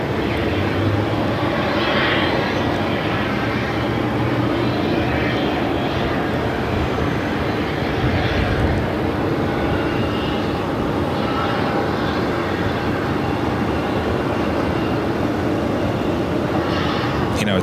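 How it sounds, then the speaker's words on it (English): An American Airlines Airbus A321 arriving from Dallas into Phoenix gives a steady, fairly distant jet rumble that holds evenly throughout, with faint background noise and little talk. "American Airlines flight 1155 coming in from Dallas on an"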